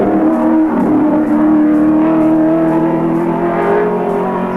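Race car on a lap of Mount Panorama during the 1983 Bathurst 1000 Hardies Heroes shootout, a loud, close engine drone holding a steady high pitch with slight rises and dips as it drives on, no talk.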